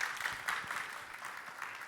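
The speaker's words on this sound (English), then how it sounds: "Applause for Arnaud, please." Soft, brief applause from a conference audience at an industrial additive manufacturing event, a scattered patter of clapping that stays faint and thin for under two seconds.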